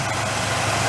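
A Ford 302 V8 fitted with a Holley 500 carburetor and an automatic transmission idles steadily, a continuous close, loud rumble with no talk.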